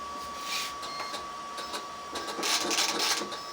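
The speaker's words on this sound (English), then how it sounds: "You see how the thing goes to start embossing." A braille embosser punches a page with a close, busy run of mechanical clicks and tapping bursts over a faint motor whine, growing louder toward the end.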